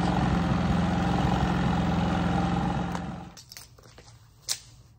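Two Cummins P4500 portable generators linked in parallel hum loud and steady with a low engine drone, then wind down and cut out after about three seconds, leaving quiet with a few faint clicks and one brief knock.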